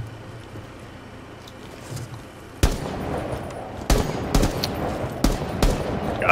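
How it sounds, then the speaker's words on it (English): Gunfire in the Rainbow Six Siege video game: after a quiet stretch, loud sharp shots and short bursts crack out at irregular intervals, close and punchy over a steady background hum. "Guys, I'm taking heavy fire."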